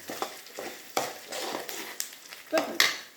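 Dried red chilies roasting in a pan for tamarind puli kaichal, with a run of short scraping stirs and crackling bursts at a steady rhythm, close and moderately loud.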